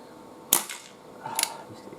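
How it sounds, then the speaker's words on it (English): A Webley 4-inch Police .22 air revolver fires pellets at cans from about 15 metres, giving two sharp, snappy shots about a second apart, each followed by a faint ring or clink. "I wasn't expecting those pellets to hit them at 15 metres, but it just shows that this revolver is definitely shooting straighter"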